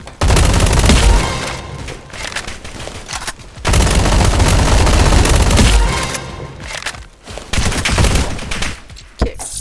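Roblox combat-game gunfire comes in loud, dense bursts of rapid shots that stop briefly and start again, filling nearly the whole stretch with sustained fusillades.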